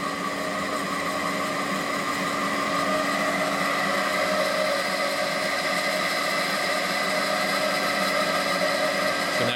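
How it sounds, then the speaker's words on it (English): A 75 hp electric motor driven by a Robicon 454GT variable frequency drive, set to half speed and running somewhat noisily, gives a steady, loud, continuous mechanical whine with sustained tonal hum throughout, no talking. "this particular motor is a little noisy, but the drive works"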